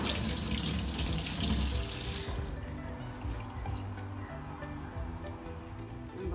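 A running tap pours water as hands are washed beneath it, a loud steady gush for a couple of seconds that drops to a softer trickle and splashing for the rest.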